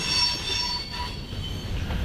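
A CSX freight train rolls past on the rails, close and loud, with steady rumbling wheel noise and a thin squeal of wheels against the track.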